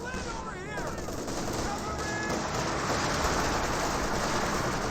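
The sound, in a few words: 50 cal machine gun firing in video game Company of Heroes 2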